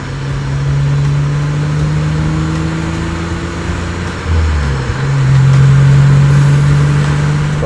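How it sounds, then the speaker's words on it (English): The 6-cylinder engine of a 1991 BMW E30 convertible drones steadily nearby, its exhaust holding a smooth low note that dips briefly and then climbs as the revs rise, loud and continuous with no voices. "It's got a lovely exhaust note from the 6-cylinder engine"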